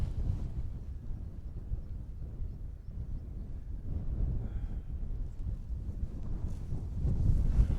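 Wind at a wild camp on Mynydd Mawr buffets the microphone in a low, continuous rumble that swells and eases, growing louder toward the end.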